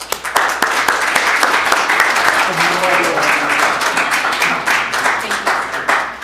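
A large audience at a police civilian review commission summit applauds steadily for about six seconds, dense and loud, with a few voices mixed into the crowd noise.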